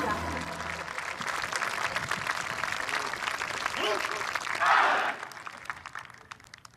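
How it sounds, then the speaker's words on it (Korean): Crowd at an Armed Forces Day ceremony applauds special forces soldiers with a dense, sustained wash of clapping that swells near the end and then fades, with a voice speaking over it. "자랑스러운 특전용사들에게 다시 한번 뜨거운 박수 부탁드립니다"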